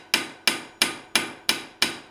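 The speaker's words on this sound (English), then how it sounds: "We'll hammer on both sides of this as we go." Six evenly spaced, ringing hammer blows as a blacksmith draws out hot metal while forging a horseshoe on the anvil, close and loud with a short metallic decay after each strike.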